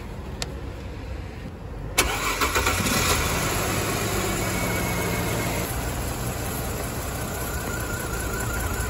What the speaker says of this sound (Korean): 바로 시동 한번 걸어봐봐